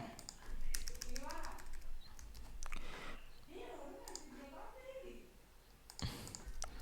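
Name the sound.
typing on a computer keyboard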